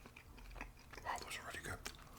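French fries chewed close to the mic, soft wet crunching and mouth sounds at low level, with faint whispery voice sounds mixed in.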